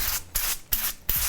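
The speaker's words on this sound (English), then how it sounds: "we're gonna give them just a light spray of the oil again." Oil is sprayed in a light mist onto roasted butternut squash pieces. Three quick, close hissing bursts follow one another in an even rhythm, with no talking.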